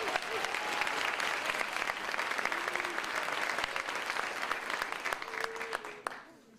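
A large crowd at a nursing college commencement applauds with sustained, dense clapping that carries on steadily, then quickly dies away at the end.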